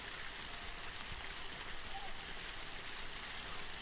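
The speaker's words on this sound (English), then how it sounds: "I'm hearing a river, but I'm not seeing a river." A flowing river in the video game Scampr gives a quiet, continuous rushing wash of water, steady and even throughout with no clear talk over it.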